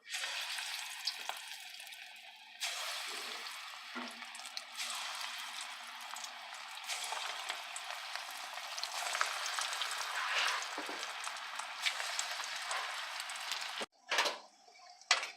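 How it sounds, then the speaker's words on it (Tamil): Rava kunukku batter dropped into hot oil fries with a steady, close crackling sizzle across the whole stretch, broken by a brief pause near the end before bubbling resumes. "நாம் இதை எண்ணெயில் போட்டு எடுத்துடலாம்."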